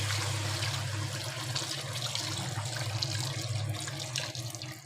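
Water pours steadily into a cooking pot while kabsa is being made, a continuous splashing, gurgling stream that stays close and fairly loud for the whole clip, with no talk over it.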